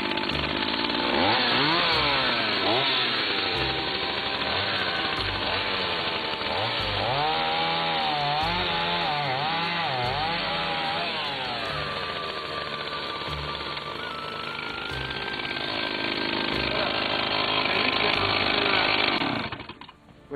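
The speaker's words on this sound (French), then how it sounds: "Je prends la tronçonneuse, la voilà. Voilà, je vais la mettre en route." A gasoline chainsaw cuts through a thick firewood log outdoors during autumn work, loud and close, its engine rising and falling in pitch as the chain bites into the wood, steady for about twenty seconds before cutting off.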